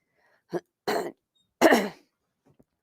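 Two or three short, harsh coughs or throat clearings a fraction of a second apart, close and fairly loud, with quiet gaps between them.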